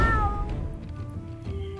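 A cat meows on Aoshima, the cat island in Japan, one long close meow that falls in pitch and fades out.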